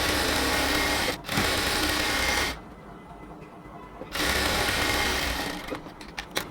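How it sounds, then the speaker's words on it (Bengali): A sewing machine stitches the hem of a cotton dress, whirring steadily up close in two long runs separated by a brief pause, with no talking. "এদিক থেকে একটা সেলাই দিয়েই হচ্ছে এটাকে সুন্দরভাবে সেলাই করে নিচ্ছি পুরোটা ঘেরের মধ্যে।"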